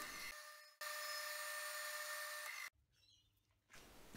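A metal lathe takes a light skim pass on a large steel nut, a steady high-pitched cutting whine running for about two seconds after a brief start, then stopping into near silence and faint shop noise.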